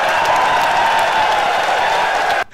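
Dense crowd roar and applause at a FlipTop rap battle between Jonas and K-Ram, a continuous loud cheer that cuts off abruptly near the end.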